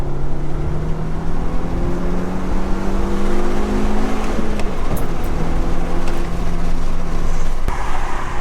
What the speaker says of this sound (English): Clearly it's got a modified exhaust.